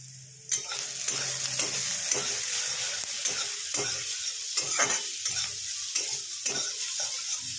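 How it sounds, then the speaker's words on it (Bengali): Eggplant slices sizzle steadily in a shallow layer of hot oil in a pan, with a constant crackling hiss and repeated scrapes and clinks of a spatula turning the pieces, close and fairly loud. "দিয়ে এবার বেগুনটাকে ভালো করে ভেজে নেব"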